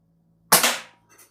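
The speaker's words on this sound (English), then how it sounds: "The first shot, you got to take it off safe every time you crank it." A single sharp crack from an Umarex Ruger Mark IV break-barrel .177 pellet pistol firing during a chronograph test, loud and close, decaying quickly and followed by a faint second tick.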